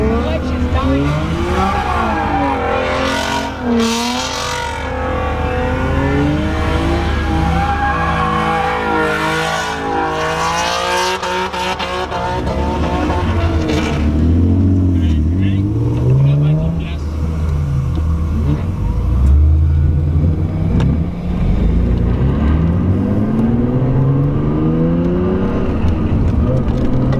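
A Nissan R33 Skyline GT-R V-Spec revs hard with a slipping, dying clutch, its engine note sweeping up and down loudly and close for the whole stretch, with people talking and exclaiming over it.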